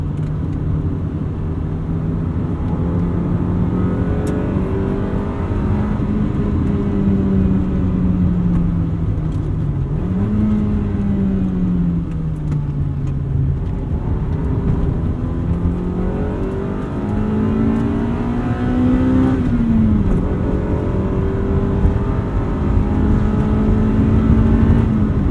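A golden-era Honda Civic Si engine accelerating and revving on a hot day, its note rising and falling through several gear pulls, loud and close throughout with no talking.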